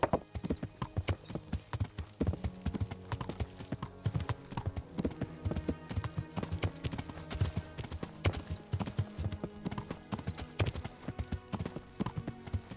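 Horse hooves clip-clopping at a steady walk in the medieval game Kingdom Come: Deliverance, a continuous even rhythm of hard hoofbeats with occasional heavier thuds, moderately close and sustained with no talking.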